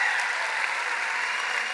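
Applause for the teachers at a music event at Belém Palace, a steady even wash of clapping from an audience, with no voices over it.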